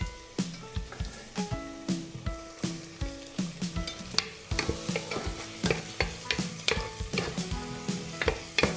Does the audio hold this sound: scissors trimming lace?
no